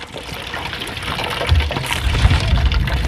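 Rice cooking water drained out of a pot on a boat at sea while fish biryani is cooked: a close, steady gushing pour of liquid that grows heavier and louder partway through.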